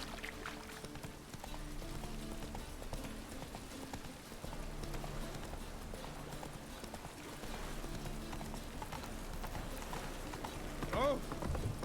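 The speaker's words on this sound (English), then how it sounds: "Run, Roach" Hoofbeats of the horse Roach galloping in The Witcher 3 video game, a steady clip-clop rhythm running throughout at moderate level, mixed with game music and ambience and some speech.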